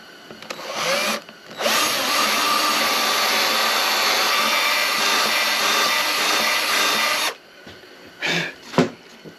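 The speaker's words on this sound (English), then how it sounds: "So now I'm going to just drill my holes" A power drill bores holes into a wooden board, one loud sustained whine of about six seconds between brief quieter bursts of handling, with no talking.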